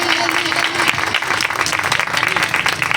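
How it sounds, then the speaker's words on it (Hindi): Loud, enthusiastic applause from the audience at a Christian leadership convention worship gathering, dense clapping with a voice calling out briefly at the start. "ज़ोरदार तालियां खुदा के कलाम को आप वेलकम कर रहे हैं।"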